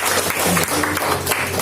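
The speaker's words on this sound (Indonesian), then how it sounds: "Tepuk tangan." Brief burst of audience clapping at the opening of a watercolour painting exhibition at Kopi Alam café in Semarang, dense and fairly loud, with a faint murmur of voices mixed in.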